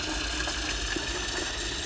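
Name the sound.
water filling a container from a tap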